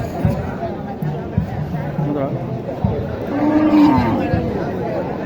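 A cow moos once at moderate volume amid a busy crowd at a cattle market in Naogaon, Bangladesh, with people talking throughout.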